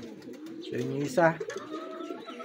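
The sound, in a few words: racing pigeons cooing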